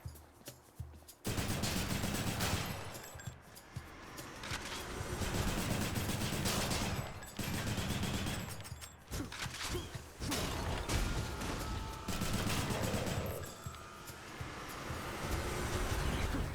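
In the video game Hades, a weapon fires rapidly in long, steady streams of close, loud shots, broken by brief pauses before each new volley.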